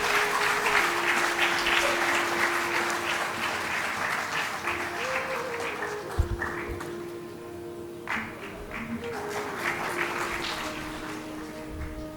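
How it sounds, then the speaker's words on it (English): Sustained audience applause at an agricultural institute's foundation day ceremony, a steady wash of clapping that dips slightly midway, with a held tone running beneath it. "big round of applause again"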